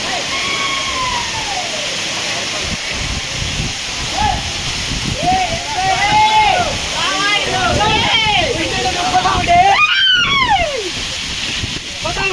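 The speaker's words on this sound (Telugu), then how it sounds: "దీని పక్కనే ఒక వాటర్ ఫాల్ అయితే ఉంది" Steady rushing hiss of a waterfall beside the Jwala Narasimha Swamy temple at Ahobilam fills the background while someone talks over it throughout.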